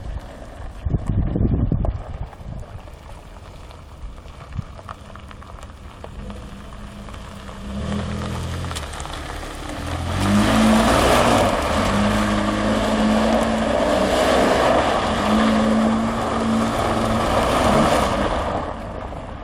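A Pathfinder's engine rumbles and revs in rising, sustained bursts while drifting, loud and close, with wind buffeting the microphone.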